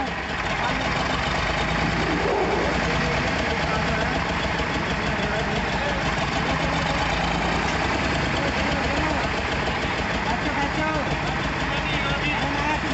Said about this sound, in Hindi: और जोर शोर देखेंगे ट्रैक्टर के।